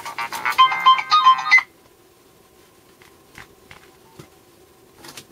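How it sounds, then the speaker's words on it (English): A telephone ringtone rings in a workshop: a loud, close electronic melody of short repeated tones for about a second and a half, then it stops, leaving a quiet room with a few faint knocks and shuffles. "Phone."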